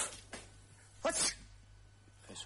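A person sneezes once, sharp and close, preceded by a couple of quick breathy intakes and followed by a faint sniff against a low hum in an otherwise quiet room.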